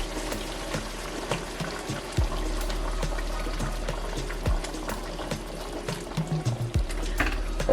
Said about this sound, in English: I'm gonna pour some more water in, of course boiling water.